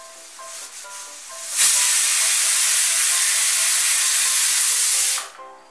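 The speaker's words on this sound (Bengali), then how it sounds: "এই দেখুন প্রেসার কুকারটা মিডিয়াম আঁচে 3টা সিটি দিয়ে দিয়েছে" A pressure cooker on a medium gas flame lets out one loud, sustained whistling hiss of steam lasting several seconds, rising sharply and cutting off abruptly, with quieter kitchen noise before and after.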